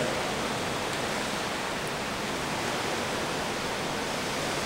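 Steady, roaring wind and rain hiss from Hurricane Grace, a dense unbroken wash of noise with no pauses, loud and close throughout.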